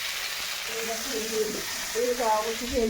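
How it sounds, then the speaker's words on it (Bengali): Mung dal being tempered in a pan with tomato, a soft close sizzle and hiss throughout while someone talks over it. "সেই ডালটা এখন এর মধ্যে ফোড়ন দেবো"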